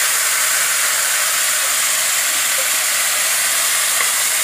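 Coated chicken pieces fry in about four spoons of refined oil in a pan, giving a loud, continuous, close hiss and sizzle with no breaks or voices.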